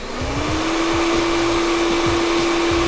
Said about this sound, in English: keep that airflow away from the scalp so that the client doesn't feel the heat of the blow dryer